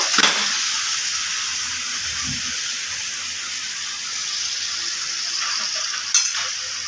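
Chicken frying in a pan on a gas stove with the flame turned low, a steady close sizzle and hiss, with a brief clatter of stirring near the end.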